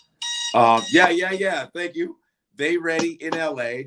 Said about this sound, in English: Oh, that was my alarm.